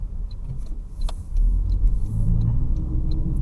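A 2025 Toyota Corolla on the road, heard from inside the cabin as a low steady engine and road hum, with a few faint clicks and ticks above it.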